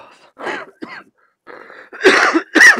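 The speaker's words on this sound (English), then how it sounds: "I've got a bit of a cough on this one." A man coughs and clears his throat in several loud, close bursts, short rasping hacks that build into two heavier coughs at the end.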